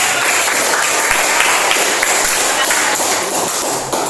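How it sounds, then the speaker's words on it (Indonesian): A classroom of students applauds in a loud, dense burst of clapping that holds steady for about four seconds before easing off. "berikan tepuk tangan"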